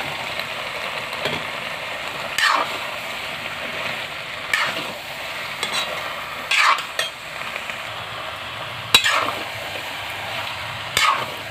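Potato and pointed gourd curry being sautéed in a pan, with repeated sharp spatula scrapes against the metal every couple of seconds over a low, steady frying sizzle.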